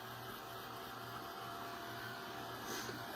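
A dryer blows steadily to dry paint on a craft board for a winter scene, giving a constant, close whirring hum with no pauses.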